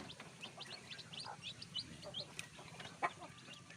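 A Bangkok and village chicken crossbreed gives soft, scattered clucks and short calls in a quiet coop, faint and close, with a slightly sharper call near the end.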